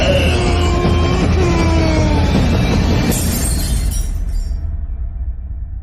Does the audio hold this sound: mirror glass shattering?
yes